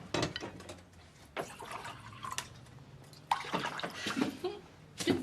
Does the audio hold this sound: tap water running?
yes